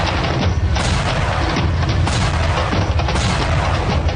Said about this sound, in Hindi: भारतीय तोपखाने की 137 तोपों ने टाइगर हिल की चोटियों पर 30 मिनट तक लगातार गोले बरसाए।